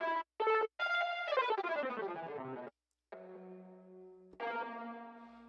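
Sampled bell one-shots play through a Studio One template: a few short struck tones and then longer ringing notes that step down in pitch, each with bright metallic overtones and a decaying tail, alone with no talk.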